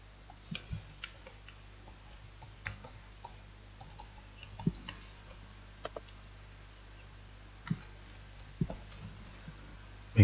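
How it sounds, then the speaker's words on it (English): Computer mouse clicks at a desk while editing a form: faint, sparse single clicks at irregular intervals over a quiet background hum, a few slightly louder taps standing out, with no talk. "Make sure you click on save."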